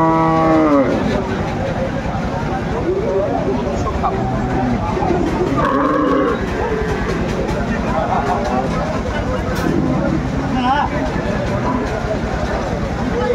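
Dairy cows and calves moo repeatedly at a busy rural cattle market in Ambari Haat, Dinajpur, with loud, drawn-out calls rising over constant crowd babble and people talking nearby.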